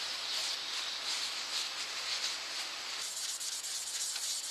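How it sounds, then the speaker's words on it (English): Lathe polish rubbed into a spinning yew goblet, a steady, close, continuous hissing friction that holds evenly throughout with no pauses. "Again, rubbing it into the grain."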